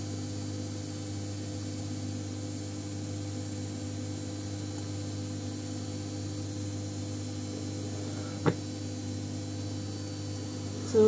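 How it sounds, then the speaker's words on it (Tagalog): A household washing machine running indoors gives a steady low hum with a faint tonal drone throughout, interrupted by a single sharp click near the end. "Pasensya na kayo sa ingay ng washing machine namin."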